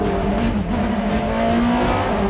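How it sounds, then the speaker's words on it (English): A 2002 BMW M3 E46 race car with its interior gutted drives past in a loud, steady engine drone with a slight rise and fall in pitch, close and continuous, with no voices. "Mario races a 2002 BMW M3 E46."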